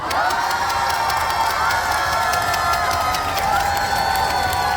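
A festival crowd at the Mungyeong beef festival cheers and applauds a singer, a steady wash of shouting and clapping that stays loud and dense throughout with no pauses.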